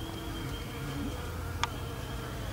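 Stingless native bees at the hive, a faint steady buzzing hum that carries through the whole stretch, with one brief click partway through.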